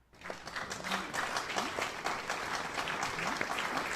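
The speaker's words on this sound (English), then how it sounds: "you'll have to put like an audience clapping" Audience applause: a dense, steady wash of many hands clapping, swelling in quickly and holding at an even level for about four seconds, with no voices on top.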